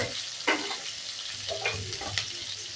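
Tamarind is stirred and sautéed in a pan for thoodhuvalai chutney, with a soft sizzle under a few distinct spoon scrapes and taps, close by and moderately quiet.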